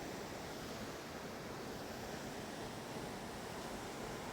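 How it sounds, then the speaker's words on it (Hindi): Sanpari waterfall in Odisha's tribal countryside gives a steady, broadband roar of rushing water that fills the whole stretch without pause, with no voices. "सानपरी वाटरफल रे"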